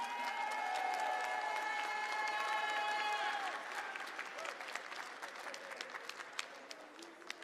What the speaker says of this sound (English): One more huge round of applause for all of our players and Hiroki-san.